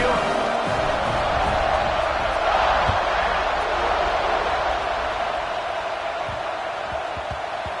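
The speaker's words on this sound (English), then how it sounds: "Do you think this crowd's going to get loud when their defense comes on the field?" A football stadium crowd roars in a broad, constant wash of cheering that rises slightly midway and stays loud throughout.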